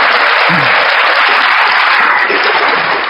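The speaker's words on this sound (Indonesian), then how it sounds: "Kita kasih tepuk tangan dulu." Audience applause in a church or religious gathering, dense and steady from start to finish, loud and close, with no talking over it.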